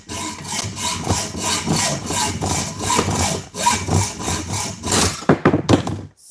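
Hand sawing through a piece held in a loosely tightened vise, with steady back-and-forth rasping strokes close by and a few quicker, sharper strokes near the end.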